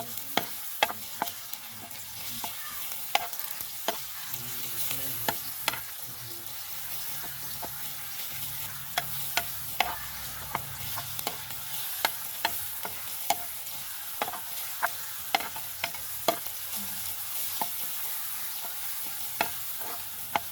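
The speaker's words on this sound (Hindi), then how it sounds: "अब इसको हल्का सा फ्राई करेंगे" Garlic paste and whole cumin fry with browned onions in a pan, a steady soft sizzle broken by frequent sharp clicks and scrapes of a stirring spoon.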